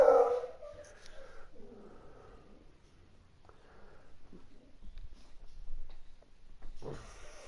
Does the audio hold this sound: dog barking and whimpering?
yes